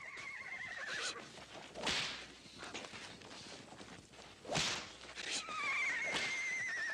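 A frightened horse lets out shrill, wavering whinnies alongside sharp whip cracks and thuds in a 1964 television western scene, the neighs rising loud near the start and end with sudden snapping strikes between.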